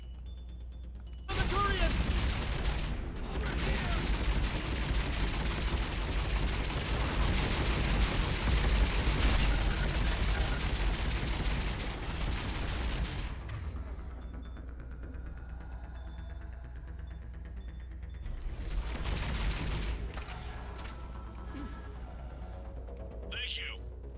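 Heavy sustained gunfire from a Reaper Harvester in Mass Effect 3 rages loud and dense for about twelve seconds, fades, then returns in a shorter burst, with a voice shouting briefly over it.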